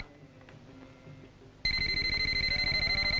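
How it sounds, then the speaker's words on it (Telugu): A telephone suddenly starts ringing loudly in a scene from a Telugu love drama film, a bright, steady electronic ring pulsing in rapid repeats after a quieter stretch of low background sound. "ఆ ఫోన్ ఎవరినైనా తీయమను."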